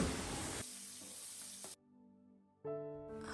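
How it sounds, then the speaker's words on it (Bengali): Pabda fish fries in hot oil, being turned over in the pan. A loud, close sizzle opens, then eases off, drops almost to nothing for a moment, and returns with stirring clatter. "মাছগুলো উল্টিয়ে পাল্টিয়ে ভেজে নিতে হবে ভালো মতো"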